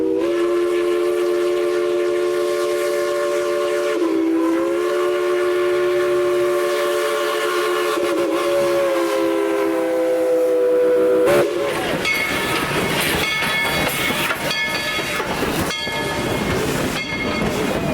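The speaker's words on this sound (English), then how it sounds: "enjoy the sights and sounds of 190, the Yukon Queen, here at Tweetsie Railroad" Steam locomotive number 190, the Yukon Queen, at Tweetsie Railroad gives a long, loud chime whistle that dips in pitch, then rolls on with rhythmic clanking, hissing and wheel clatter close by.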